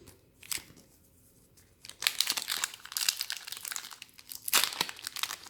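Wrapper paper from freshly opened Pokémon card packs crinkles and rustles in bursts, quiet at first, then louder, busier handling near the microphone with a few sharp crackles, no voices.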